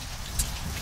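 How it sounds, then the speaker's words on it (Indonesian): Rain falls steadily as a soft, even broadband hiss, with one brief brighter splash or tick partway through. "Hujan."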